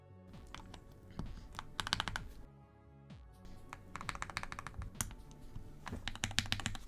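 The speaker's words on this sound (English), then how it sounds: "This keyboard turned out looking and sounding really great." Fast continuous typing on a custom mechanical keyboard built for Minecraft, dense clacky keystrokes in bursts with a short pause midway, close and clear, no voices.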